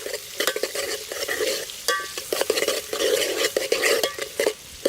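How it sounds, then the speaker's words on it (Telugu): Onions being stirred while frying in a pan for goat head curry, with repeated scraping spoon strokes and clicks against the pan over a steady sizzle, no voices. "ఉల్లిగడ్డ వేసుకొని కలబెట్టుకోవాలి."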